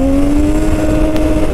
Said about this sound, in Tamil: இப்போ வந்து இந்த பைக்கை லான்ச் பண்ணியே பார்த்துருவோம்.